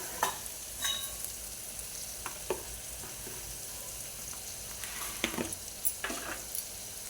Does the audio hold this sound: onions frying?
yes